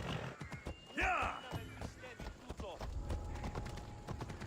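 A horse galloping in the video game Assassin's Creed Odyssey, rapid rhythmic hoofbeats with a brief whinny, close and steady, while voices speak over it.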